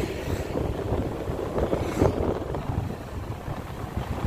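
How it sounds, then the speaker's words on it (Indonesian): Strong wind buffets the microphone on an asphalt road from Air Joman toward Kisaran, producing a continuous rumbling roar that swells and eases in gusts. "Anginnya kencang banget."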